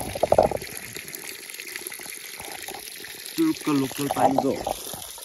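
Cold water runs and splashes as someone washes their face, with short bursts of a person speaking nearby over the trickle.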